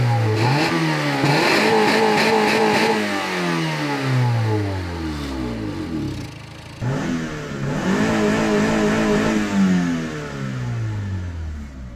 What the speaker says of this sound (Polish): Teraz mamy motor nagrzany, więc możemy bujnąć go po obrotach.